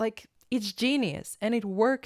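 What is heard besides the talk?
None of the usual background noises is heard.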